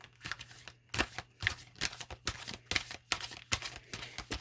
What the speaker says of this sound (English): Let's pull you one of these little cards here.